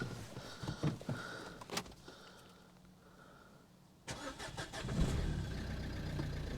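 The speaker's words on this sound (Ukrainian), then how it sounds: "Дизель працює, ну типу все добре." A 2011 Renault Megane 3 with a 1.5 dCi diesel engine cranks and starts, then settles into a steady clattering idle, with some handling noises around it.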